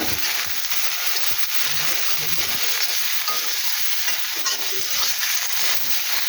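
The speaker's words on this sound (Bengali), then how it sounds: "লবণ দিয়ে একটু নাড়াচাড়া করি।" A soybean and potato curry with salt is stirred in a hot pan, with continuous sizzling and frying hiss and the scrape of the spoon recurring throughout, close and steady.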